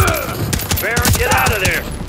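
Gunfire in a Call of Duty: Modern Warfare III campaign battle: dense, continuous bursts of automatic weapon fire crackle throughout, loud and close, mixed with mechanical clatter and radio-style voices talking over the fighting.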